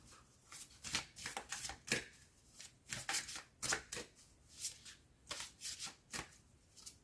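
Tarot cards being shuffled by hand, soft quick riffling and slapping in an irregular, continuous rhythm, close and quiet.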